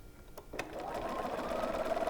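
A sewing machine stitches quilt block patches for a Fifty-four Forty or Fight block, its steady motor whir running close and continuous after a couple of brief clicks.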